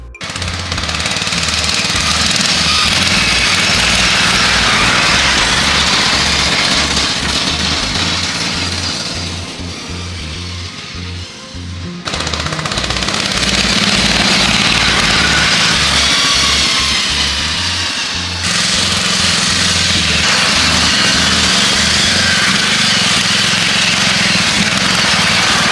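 A racing lawn mower engine runs loud and close for about twenty-five seconds, a rough, buzzing drone that eases off briefly twice before revving back up, with no talking.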